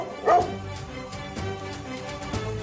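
A dog barks sharply once near the start, then gives two softer yips spaced about a second apart, all fairly close by.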